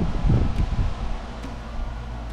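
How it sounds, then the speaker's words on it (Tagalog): A gentle outdoor breeze gives a soft, steady airy hiss with low rumbling gusts buffeting the microphone near the start, then settles into a quieter continuous rush. "Ang banayad ang simoy ng hangin."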